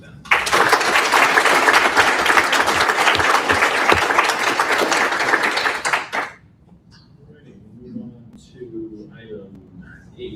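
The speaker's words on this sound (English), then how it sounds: "I'd like to have a round of applause for them." Attendees at a board of education meeting give a round of applause for teachers and staff. Warm, full clapping lasts about six seconds, then stops abruptly, leaving a quiet room where someone begins speaking.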